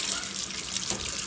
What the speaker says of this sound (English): so I have to rinse it off with cold water